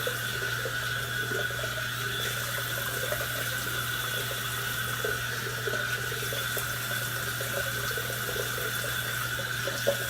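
Tap water runs steadily into a sink during a rinse after shaving with Sterling Soap Co. soap, a constant close hiss and splash without breaks and without talking.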